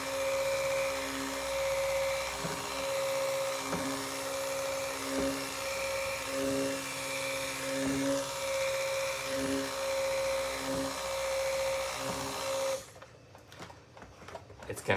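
Steady mechanical whine, like a stick blender or mixer, churns lye into a cinnamon swirl cold-process soap batter, with soft regular pulses throughout before it cuts off near the end.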